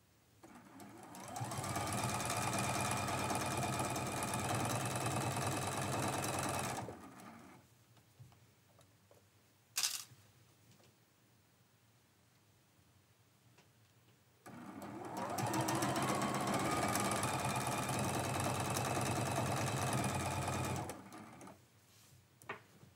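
A sewing machine runs along a quilt seam in two long steady stretches of fast stitching, close up, separated by a quieter gap of several seconds with a sharp click in it.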